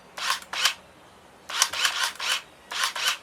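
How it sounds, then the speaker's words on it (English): A Polaroid i-Type camera focusing its lens, heard as three pairs of short whirring mechanical bursts separated by brief pauses, close and clear. "it's actually focusing the lens"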